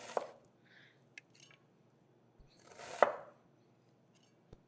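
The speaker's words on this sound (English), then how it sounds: "Now the leftover, I'm actually going to cut them into strips" A knife slices vegetables into strips for vegan fajitas, giving a few distinct, crisp chopping taps on a cutting board, spaced apart with quiet gaps between them.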